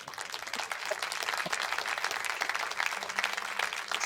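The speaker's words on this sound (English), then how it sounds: "he deserves a round of applause before we start" An audience at a talk on Exmoor pony genetics breaks into sustained, dense applause, many hands clapping together at a steady level for several seconds.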